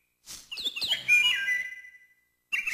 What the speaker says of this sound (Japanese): 影鳥。 お昼にしか見ることのできない貴重な鳥。